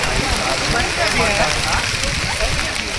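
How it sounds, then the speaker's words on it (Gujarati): Sudden rain comes down in a dense, steady patter close by near a waterfall at Matheran, Maharashtra, while people talk through it. "અચાનક જ વરસાદ ચાલુ થઈ ગયો"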